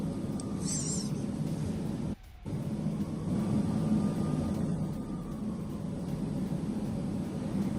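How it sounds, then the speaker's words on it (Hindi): An Israeli fighter jet passes overhead, a steady broadband roar that fills the whole stretch at moderate distance, with a brief dropout partway through. "फाइटर जेट का बड़ा डिस्टिंक्ट ऑडियो आपको इसमें सुनाई देगा, सुनिए।"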